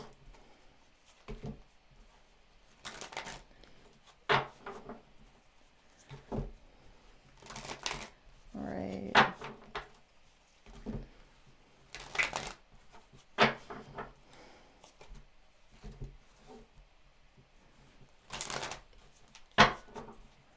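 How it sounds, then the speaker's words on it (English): Tarot cards being shuffled by hand, repeated short bursts of riffling and tapping separated by quiet pauses, close and crisp, with no talk over them. "One more shuffle."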